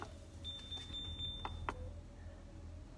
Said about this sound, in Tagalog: nag-a-alarm yung ref.